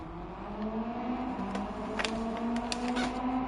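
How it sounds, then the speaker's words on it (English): Car engine in the racing game Gran Turismo 7 during a rally race, a faint steady drone with a rising whine and a few crackles, heard at low level. "I'm being deafened though with the engine noise."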